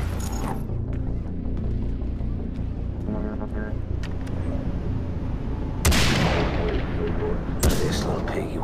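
Gunfire in Far Cry 3 Blood Dragon rings out as a couple of sharp, loud shots over a constant rumbling game backdrop, with a voice speaking in between.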